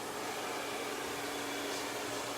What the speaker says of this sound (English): get my blow dryer, want to make sure that you blow dry